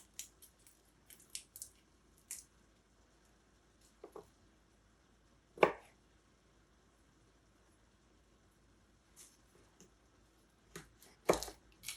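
Garlic being chopped with a knife on a board for homemade spaghetti sauce, sparse quiet cuts and taps spread unevenly across a hushed background, with two sharper strokes standing out.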